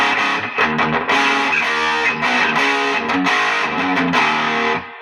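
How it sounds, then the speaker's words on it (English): Electric guitar driven through a high-gain drive pedal on its modern setting, with dense saturated chords and sustained notes that ring loud and continuous for nearly five seconds and stop cleanly at the end. "this is clearly a high gain pedal, like you can tell by the tones"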